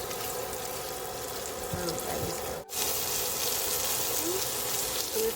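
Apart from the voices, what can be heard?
chicken frying in a pan for buffalo chicken sandwich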